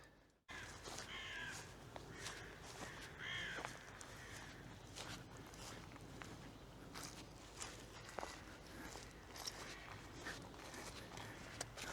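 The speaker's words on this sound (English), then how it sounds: "Even the crows are talking to us today." Crows calling in a jungle, several harsh caws scattered at a moderate distance, mixed with crunching footsteps on leaves and ground close by as someone walks through the undergrowth.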